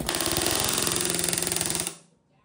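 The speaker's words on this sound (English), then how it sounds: "Some of these were too far away from the edge to use a rivet squeezer, so instead they're bucked with a rivet gun." A pneumatic rivet gun bucks rivets into an aluminum wing spar of a Van's RV-14 kit airplane, giving a loud, rapid, even hammering burst for about two seconds before it stops abruptly.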